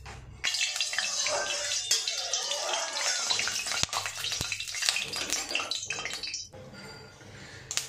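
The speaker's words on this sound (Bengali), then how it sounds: "এবার আমি সর্ষের তেল দিয়ে দেবো।" Mustard oil poured into a hot wok for a pomfret fish curry, a steady hissing, splashing pour followed by a softer sizzle, with someone talking over it.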